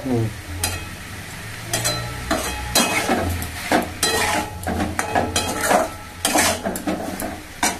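Boiled potatoes and cauliflower stir-fried in a pan, a spatula repeatedly scraping and clanking against the metal over a low sizzle, close and fairly loud in irregular strokes.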